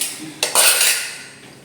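A small metal pot for making tea is picked up and set down, giving a sharp clank followed by a bright ringing metallic clatter that slowly fades, close and alone.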